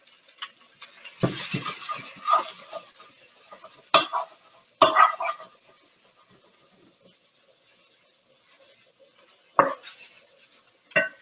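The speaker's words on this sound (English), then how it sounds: "once we get all the sausage sliced up, we can just add it in there really quick and then let that brown" Sliced sausage and garlic brown in a pot, with soft sizzling under scattered, sharp scraping and clanking of a utensil stirring against the metal. Quiet gaps fall between bursts of stirring, and no one speaks.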